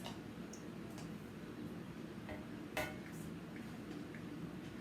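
Metal lids on jars of home pressure-canned potatoes sealing as they cool, giving a few sharp, faint pops and ticks over a steady low background hum.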